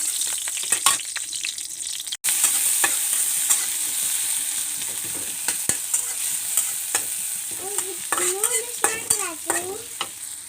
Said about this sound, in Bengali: এখন রান্না করতেছে, পেঁয়াজ নেড়ে দিচ্ছে